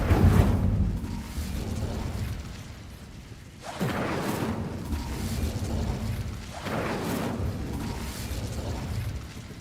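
A fire spell cast in Hogwarts Legacy, three whooshing, roaring bursts of flame rising and fading in steady succession over a continuous rumbling bed.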